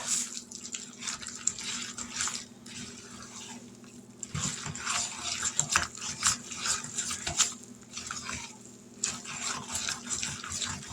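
Water runs in a thin stream into buttermilk batter for dressing, with uneven trickles and splashes at close range over a low background hum.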